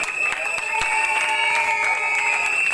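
An audience at a Congolese wedding celebration applauds, a dense steady round of clapping that carries over a sustained musical tone.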